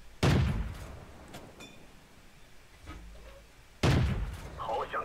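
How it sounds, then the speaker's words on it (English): Two heavy tank cannon shots from an NC-31 in a video game, about three and a half seconds apart, each a loud, sharp blast that trails off, with a low engine rumble and faint clanks in between. "And the shots are going everywhere."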